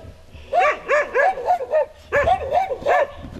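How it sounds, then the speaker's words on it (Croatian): Dogs at a dog shelter bark loudly and close by in quick yapping bursts, two rapid clusters of sharp barks and yips separated by a brief pause. "napadaju, laju."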